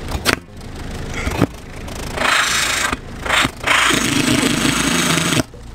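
A car engine with a modified, punctured exhaust starts and revs in rough, loud bursts, with scraping and brief dropouts between roaring stretches.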